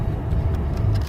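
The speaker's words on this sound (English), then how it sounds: "Turn your car off." A car engine idling at a roadside traffic stop, a low steady rumble heard close for about a second before cutting off abruptly.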